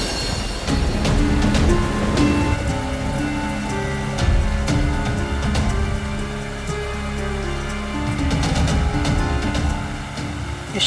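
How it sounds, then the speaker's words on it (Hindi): Sudden heavy rain pours down in Shirdi, a steady loud patter drumming on surfaces throughout with scattered sharp drips, alongside dramatic music from a Hindi devotional show. "इस शिरडी में अचानक ऐसी बारिश?"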